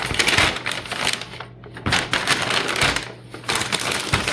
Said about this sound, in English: just take your brown bag, put your apple in, put your tomatoes in